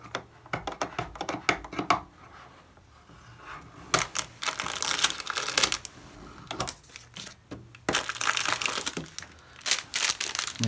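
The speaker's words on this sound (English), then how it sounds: "there's a little bit of packing on the inside that we need to remove" Packing material is pulled out of the AMS unit of a Bambu Lab P2S 3D printer, with bursts of crinkling plastic and foam rustling close by, interspersed with clicks and brief pauses.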